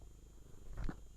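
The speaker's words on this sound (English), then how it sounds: "y'all might hear my cat" A cat purring close to an attached microphone, a soft low rumble swelling briefly near the end of a short quiet stretch.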